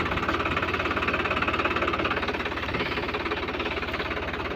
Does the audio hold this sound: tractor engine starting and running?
yes